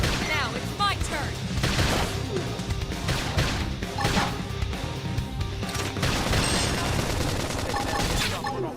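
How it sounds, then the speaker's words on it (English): Gunfire and combat effects from the video game Xenoblade Chronicles X, a dense run of shots, crashes and impacts layered with game music and voices for the whole stretch. "Try topping it with gunfire."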